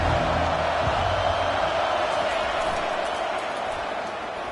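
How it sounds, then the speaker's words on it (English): A large stadium crowd at an American football game roars in a steady, broad wash of noise, loud and continuous, with a low rumble in the background. "This crowd bringing the energy and noise early."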